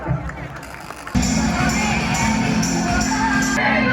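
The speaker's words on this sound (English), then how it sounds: "Please give a big round of applause for them." An audience at a school annual function breaks into loud applause and cheering for a group song performance. The sound surges in after a quieter second and stays dense and sustained to the end.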